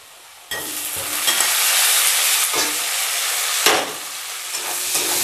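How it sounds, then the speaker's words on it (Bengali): Carrot, onion and capsicum frying in a pan for mixed veg noodles, with a loud continuous sizzle that starts abruptly and is punctuated by a few stirring scrapes. "ক্যাপসিকামগুলো দিয়েও বেশ কিছুক্ষণ একটু ভেজে নিতে হবে"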